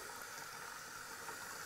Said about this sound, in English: So I'll now wash the film.